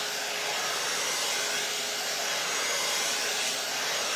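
An AIRess hair dryer blowing air across dry hair gives a steady, close whooshing hiss with a faint motor whine, unbroken for several seconds.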